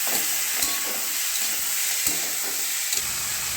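Pre-boiled soybean and vegetables fry in a pan with a continuous bright, hissing sizzle. A few faint knocks from stirring sound over it, and no one speaks.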